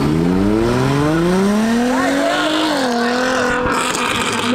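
A car drives off loudly and close by, its engine revving and rising in pitch as it accelerates away, with a brief tyre-scrub texture near the end.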